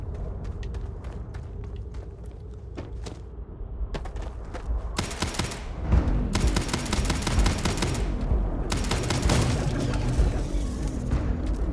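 Enemy strafing gunfire in the video game Starfield, at first scattered sharp bursts, then dense sustained automatic fire with booms from around five seconds onward, loud and continuous.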